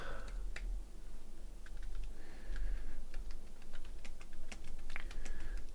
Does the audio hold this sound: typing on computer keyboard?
yes